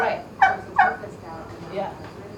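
Turkeys in a barn gobble twice in quick bursts near the start, followed by softer gobbling and clucking over a quiet background.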